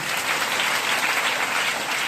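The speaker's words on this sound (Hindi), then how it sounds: "जोरदार तालियां सनी सर के लिए बजाइए।" A brief stretch of dense, even clapping from a crowd, steady and fairly loud throughout with no voices standing out.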